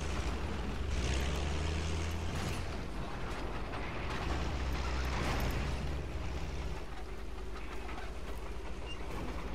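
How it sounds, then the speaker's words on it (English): Tank engine running in the Battlefield V Firestorm battle royale, a loud continuous mechanical rumble with clanking treads and grinding, steady throughout with no talk over it. "That tank's running."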